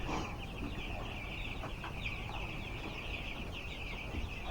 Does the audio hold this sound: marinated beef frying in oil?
no